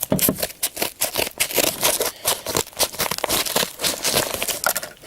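Scissors snip and crunch through crinkly packaging in rapid, uneven bursts, close up and busy throughout.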